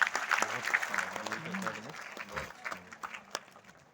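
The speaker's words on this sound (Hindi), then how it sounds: "तालियां बजा सकते हैं." Audience applause at a school quiz competition, a moderate patter of clapping that fades out over a few seconds, with voices murmuring underneath.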